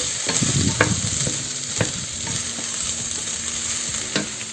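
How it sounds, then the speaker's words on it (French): Celery and carrots stirred in a pan for a vegetarian bolognese sauce, a soft steady sizzle broken by several sharp spoon scrapes and knocks against the pan. "Et je vais pouvoir ajouter le céleri. Parce que nous, on adore ça. Je vais mélanger un peu."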